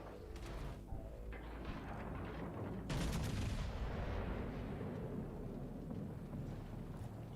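Naval guns firing in a boat-combat video game, a few booming blasts with one louder broadside near the middle, over continuous rumbling engine and battle noise.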